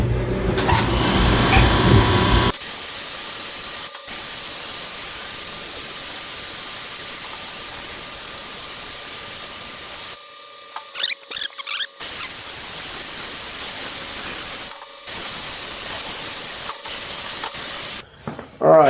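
A media blaster sandblasts mill scale off metal, giving a steady close hiss of spraying abrasive in long bursts, with short pauses and a brief gap of clatter between runs.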